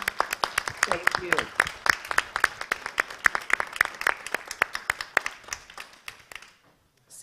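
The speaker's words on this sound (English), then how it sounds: "This session Great with a big applause" A small audience claps to close a Fulbright inaugural lecture session, with distinct close hand claps in a fairly regular rhythm that thin out and stop near the end.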